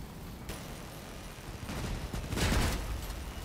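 Gunfire in the vehicle combat game Crossout, a build fitted with MG14 machine guns, rattles in rapid bursts that swell midway and stay moderately loud against a constant background rumble.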